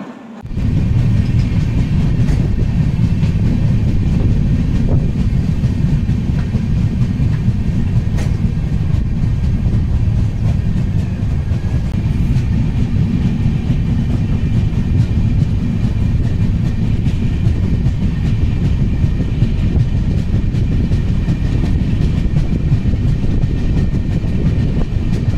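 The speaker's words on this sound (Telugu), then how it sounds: "ఇంకా 15 మినిట్స్ ముందే వచ్చింది ట్రైన్" Indian railway train rolling near a Goa station, a loud, steady rumble with faint clickety-clack from the wheels, continuous and close throughout with no talking.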